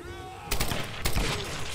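Gunfire in the Tomb Raider video game: after a quiet stretch with a faint tone, two loud sharp shots ring out about half a second apart, each trailed by a noisy echoing tail.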